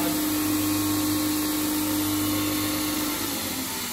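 Steelmaster SM-TN76 industrial tube and pipe grinding linisher runs with a steady, loud motor hum and abrasive belt whir, continuous throughout with no talking.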